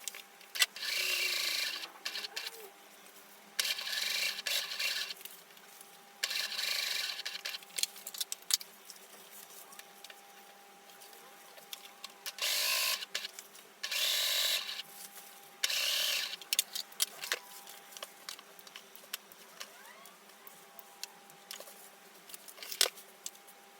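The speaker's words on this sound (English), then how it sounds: "That is the front stay stitching done." A sewing machine stay stitching the front pieces of an Ali skirt, heard in repeated bursts of fast mechanical stitching separated by short pauses and fabric handling, fairly close and moderately loud, with no talk.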